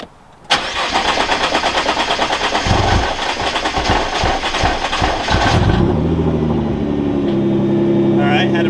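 Nissan GT-R R35 engine cranks and fires after a high-flow fuel pump install, settling from a loud, rhythmic churning start into a steady close idle with no talk over it.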